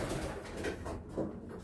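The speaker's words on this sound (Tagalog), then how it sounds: "Ito, mga ibon ni Brother Manuel." Soft, low cooing from a pigeon or dove, a few short coos fairly close by against light background noise.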